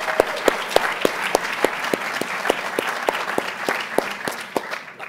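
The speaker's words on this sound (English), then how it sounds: "a round of applause" An audience applauds steadily throughout, a dense patter of many hands clapping with a few sharper claps standing out, moderately loud and continuous, at a university politics institute event honoring a Chicago Tribune columnist.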